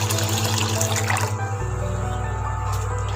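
Water poured from a glass into a cooking pot of soaked fenugreek for a sweet payasam, a steady close splashing stream that shifts to a fuller, deeper gurgle as the pot fills.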